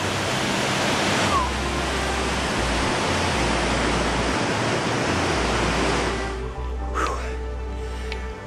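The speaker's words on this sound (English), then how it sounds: "this is a little viewpoint of the Savica waterfall" The Savica waterfall in Slovenia's mountains roars steadily as a broad, even rush from a viewpoint above, dropping slightly near the end as a person exhales.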